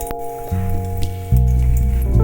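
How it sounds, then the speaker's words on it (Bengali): Black cumin seeds hit hot oil in a wok and give a brief crackling sizzle over a sustained tonal background. "তেলটা গরম হয়ে কালো জিরে ফোড়ন দিলাম"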